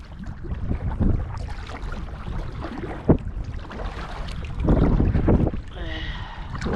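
Wind buffets the microphone while a solo canoe moves through the water on the Lady Evelyn River, with paddle splashes and a faint whistle near the end.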